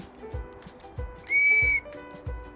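A single clear, high-pitched blast from a handmade willow bark whistle lasting about half a second, set among quieter knocks and handling noises.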